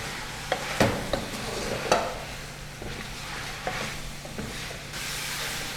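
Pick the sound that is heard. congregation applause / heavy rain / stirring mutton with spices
stirring mutton with spices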